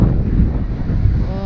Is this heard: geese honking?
no